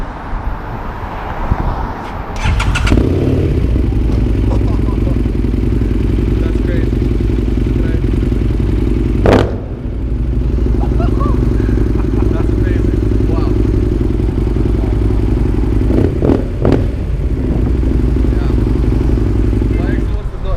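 A Nuda motorcycle engine runs close by, starting up and idling steadily, with a few sharp revs blipping the throttle over the steady rumble while people talk nearby.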